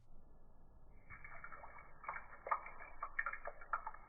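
Water trickles and splashes into a Lasiodora parahybana tarantula enclosure, a soft steady pour with a few brighter drips as a little spills over, close and quiet.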